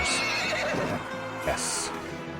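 A horse whinnies in Mount & Blade 2: Bannerlord, two bright neighs about a second apart over hoofbeats and battle ambience, with someone talking faintly underneath.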